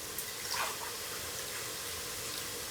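Quiet, steady rush of about four glasses of water pouring into a cooking pot with rice for egg biryani, a continuous soft splashing hiss with no voices.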